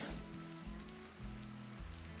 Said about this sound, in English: Bad news is it's raining